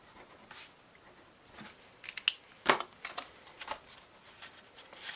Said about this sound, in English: let me write the category down